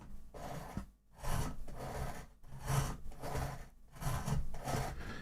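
Knife blade drawn back and forth through a cheap handheld sharpener: rhythmic rasping, scraping strokes, about five close push-and-pull passes separated by short pauses.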